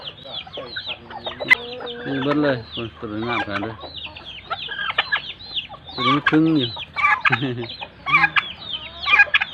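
Chickens and ducks cluck and squawk repeatedly in a lively flock in a Laos village, close by, while someone talks over them throughout.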